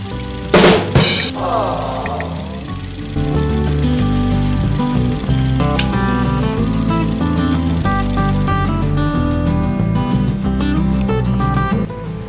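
A car engine idles steadily with a misfiring cylinder, its low rumble carrying an uneven shake. A few sharp clanks come near the start, and mechanical tones sit over the running engine.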